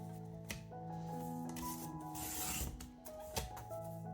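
Paper collage masterboard being cut by hand for a mixed media junk journal, a quiet close rasping and rubbing cut with a few soft sharp snips and taps, steady over a low room hum with no talk.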